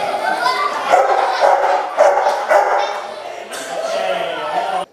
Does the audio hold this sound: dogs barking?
yes